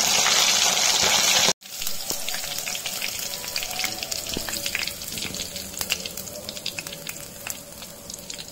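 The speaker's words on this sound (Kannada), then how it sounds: "ಮೀನು ಕಾಯಬೇಕಾದ್ರೆ ಅದರ ಶಬ್ದ ಕೇಳೋಕ್ಕೆ ಒಂಥರ ಚಂದಲ್ಲ" Masala-coated fish deep-frying in hot oil for a Mangalore-style fry gives a loud, dense sizzle with crackling pops. It is close and continuous after a brief dropout near the start, with no speech.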